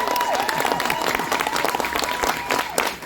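A fan convention audience at a LeVar Burton panel at Fan Expo 2022 claps in a dense, sustained wave of applause filling the room, with voices faintly mixed in.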